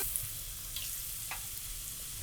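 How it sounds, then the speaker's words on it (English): Battered fish shallow frying in hot oil for homemade fish and chips, giving a steady close crackling sizzle throughout with a few brief sharper pops. "As you can see, this is a shallow fry, but it's going to look bloody gorgeous pretty bloody quickly."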